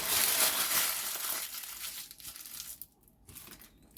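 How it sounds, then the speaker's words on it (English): Parchment paper crumpled by hand in a home kitchen during breakfast prep, a loud dense crinkling burst up close that thins into softer scattered crackles as the ball is pressed tight. "So I have some parchment paper here that I'm going to crumple up."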